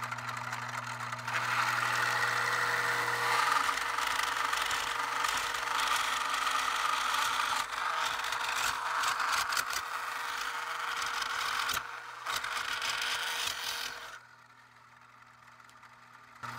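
A motor-driven LEGO table saw with a half-horsepower motor runs continuously, a steady whirring rattle with a buzzing hum, then spins down near the end, leaving a quieter hum.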